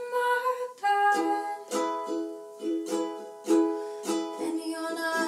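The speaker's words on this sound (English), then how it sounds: "I'm playing this strumming pattern twice on each chord, and it's gonna sound like this." Ukulele strumming the chords of a song in a steady repeating pattern, with bright rhythmic strokes and short pauses between chord changes, played close and alone without talk.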